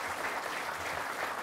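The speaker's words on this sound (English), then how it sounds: "So could you give her a round of applause?" At the Ontario Wine Awards, an audience gives Sarah Scott a brief round of applause, heard as soft, steady clapping from across the hall.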